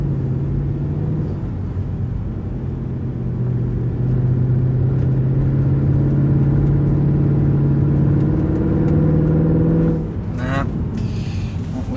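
A Mercedes C63 V8 idles up and holds a steady low rumble around 2000 RPM, close and constant, then drops off near the end as a few short bumps and clicks follow.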